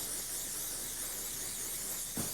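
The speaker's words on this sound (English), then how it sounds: "spray a bit silicone spray on the rubber" A steady, soft aerosol hiss of silicone spray onto rubber on a 2003 Audi A2's rear coil spring, continuous, with a brief low thump near the end.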